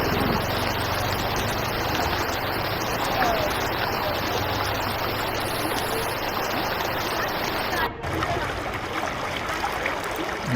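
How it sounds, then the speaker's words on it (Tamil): A river swollen with floodwater after heavy rain roars past in a loud, unbroken rushing wash, close and constant throughout, with a brief dip in the noise partway through. "இந்த மழை பெஞ்சு இந்த ஆற்றுல தண்ணி போகிறதுனால"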